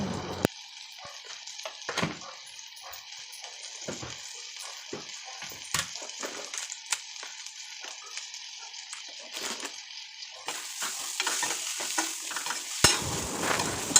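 Eggplant sautéing in a pan while it is stirred, with a faint steady sizzle and repeated scraping and clinking strokes of a spoon, growing a little louder and brighter near the end.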